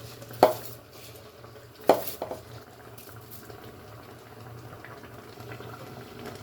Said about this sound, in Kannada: ಈಗ ರೈಸ್ ಹಾಕ್ಕೊಳ್ಳೋಣ. ತೊಳೆದಿಟ್ಕೊಂಡಿದ್ದೀನಿ.